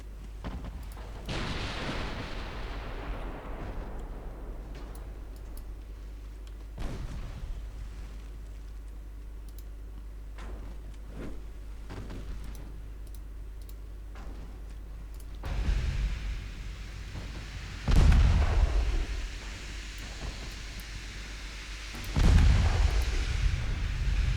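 Battleship main guns fire in 1920s-era naval combat in Ultimate Admiral Dreadnoughts, heavy booming salvos at intervals over a low rumbling wind and sea ambience, several louder blasts toward the end, no speech.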